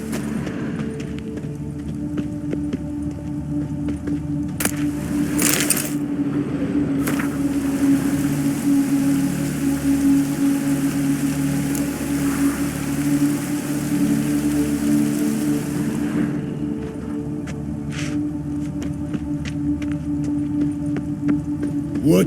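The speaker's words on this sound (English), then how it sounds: "Rain was coming" Rain falls in The Witcher 3, a steady, broad hiss of drops over a low droning hum, lasting the whole stretch with a few brief clicks and knocks and one louder wash midway.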